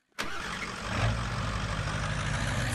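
A Roblox truck engine cranks to life and settles into a steady, loud mid-pitched running drone that holds to the end, close and alone with no voices.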